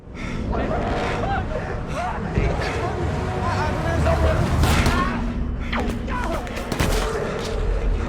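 Gunshots in a film scene ring out as several sharp cracks amid dense, loud background sound with a voice speaking over them.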